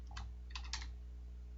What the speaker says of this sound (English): You have to push T on your keyboard and type in